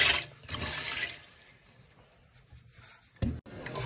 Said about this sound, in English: Starting off by washing the peas.